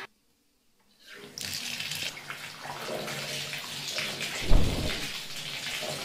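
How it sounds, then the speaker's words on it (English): Cold water gushes from a tap into a bathtub after a second of silence, a steady close splashing rush that swells briefly near the end. "so I'm just going to fill it with cold water."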